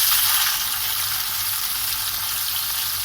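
Onion dropped into hot oil with garlic, frying for a Pakistani restaurant-style masala daal, gives a steady, close, bright sizzle that holds for the whole stretch with no voices.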